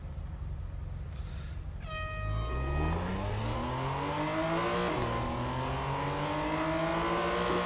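A Subaru with a big exhaust in the Real Racing 3 video game revs, its engine tone climbing steadily in pitch as the car accelerates over a constant background rumble.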